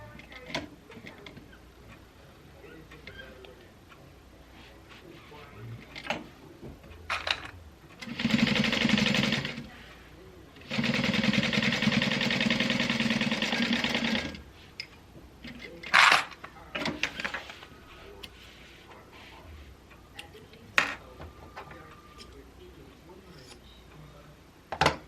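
A sewing machine stitches a quarter-inch seam on a milk box bag, running close in two steady bursts of a few seconds each. Light handling clicks and rustles fill the quiet stretches between them.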